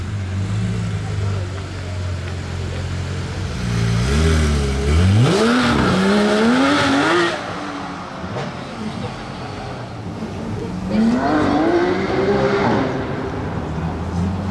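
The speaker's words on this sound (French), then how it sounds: "petit match là entre les deux, la Huracan jaune et la GT3 RS ultraviolet de Tony." A yellow Lamborghini Huracan and an ultraviolet Porsche GT3 RS rev their engines on a Paris street, one throttle blip after another rising and falling loudly near the listener, with voices and crowd noise mixed in.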